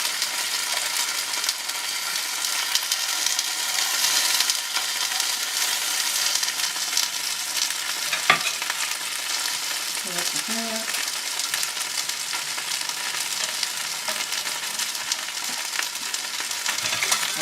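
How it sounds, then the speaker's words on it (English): Cornmeal sizzles and crackles in a hot pan, a continuous frying hiss with a brief scrape of a utensil partway through. "It's frying, it's doing something."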